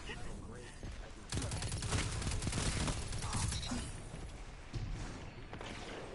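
Video game gunfire rattles in rapid bursts and continuous automatic volleys, with thuds mixed in, fairly faint and steady throughout.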